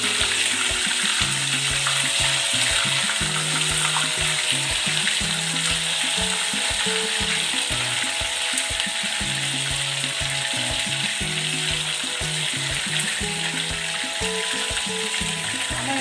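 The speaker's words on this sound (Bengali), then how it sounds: "ধীরে ধীরে ভাজতে হবে আমার" Chicken chaap fries slowly in hot oil, giving off a continuous loud sizzle with steady crackle and occasional stirring or scraping noises throughout, with no voices.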